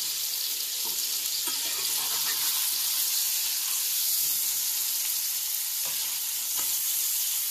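A portabello mushroom fries in a hot pan for a veggie burger, a steady close hiss of sizzling oil throughout, broken by a few soft scrapes and taps as it is flipped.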